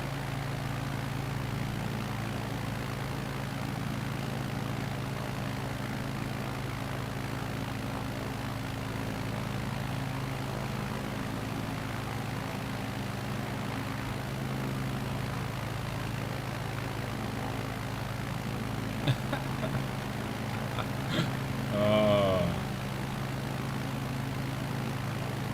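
Steady propeller aircraft engine drone from Microsoft Flight Simulator, climbing for altitude, holding a constant loud hum throughout with a brief higher-pitched warble near the end.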